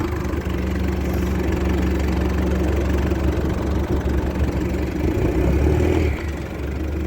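A 2014 Isuzu mu-X diesel engine idles steadily after a hard start, with a loud, constant low rumble and a slight vibrating throb throughout, close by and without talk.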